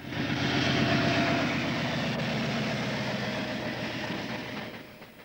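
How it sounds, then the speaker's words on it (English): A Class 56 diesel locomotive hauls a coal train northbound near Clipstone, its engine a loud, sustained rumbling drone that holds steady before slowly easing, with no voices. "Class 56 locomotive, which earlier went to Clipstone Colliery, now heads north with its coal train to Clipstone South Junction."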